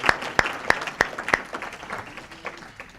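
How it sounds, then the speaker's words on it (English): A few sharp claps ring out, then a scattered round of applause fades into a soft murmur. "I think that was a round of applause."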